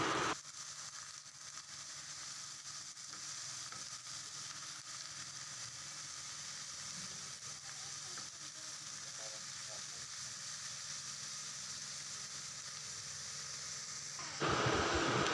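Chopped potatoes fry in a pan for aloo bhaji, giving a steady, even sizzle that holds at the same level throughout, close by, with a brief louder rise of hiss near the end.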